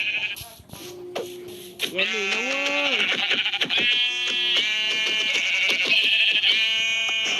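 Sheep in the video game Minecraft bleat in wavering cries while someone speaks Thai over the game sounds.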